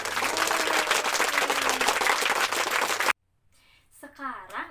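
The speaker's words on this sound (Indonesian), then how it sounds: "Kita beri tepuk tangan yang meriah untuk kita semua" Schoolchildren in a classroom applaud loudly together for about three seconds, then stop abruptly, and a voice begins speaking.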